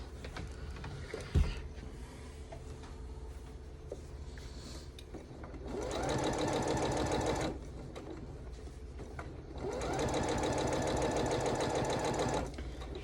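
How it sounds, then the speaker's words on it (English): A sewing machine stitches a quilt project in two sustained runs of fast, even mechanical whirring, close and fairly loud, separated by quieter pauses with a sharp knock early on. "I've noticed with Buffy that she starts skipping stitches when she wants a new needle."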